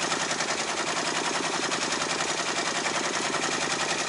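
A Brother PR655 embroidery machine stitching out a design on a backpack, a fast, even mechanical rattle that runs loud and unbroken throughout.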